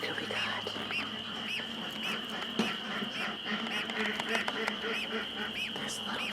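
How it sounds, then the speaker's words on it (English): A gosling chirps repeatedly from a goose incubation setup indoors, giving short high peeping calls in an irregular series over a steady background hum, with faint adult goose sounds. "No wonder I hear chirping. There's a gosling in here."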